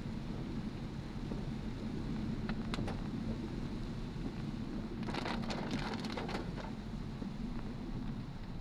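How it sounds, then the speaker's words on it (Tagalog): Steady rain drumming on a surface during a drive in traffic from Mandaluyong to Quezon City, a constant hiss with a burst of sharper crackling patter partway through. "ganitong umuulan"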